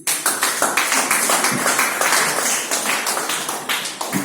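An audience at a motivational speech applauds continuously, many hands clapping in a dense, steady wash of sound with no pauses.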